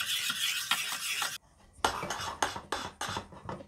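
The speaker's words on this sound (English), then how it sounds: "so I will put it on the stove. Use the low fire and keep stirring." Flour paste for kimchi is stirred in a pot on a stove over low heat. A spoon scrapes and knocks against the pot in quick, regular strokes, with a short pause partway through.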